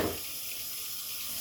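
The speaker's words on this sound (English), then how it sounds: "rinse my meat off again." Tap water runs steadily into a kitchen sink while meat is rinsed after soaking in vinegar, a soft, constant splashing hiss close by with no talking.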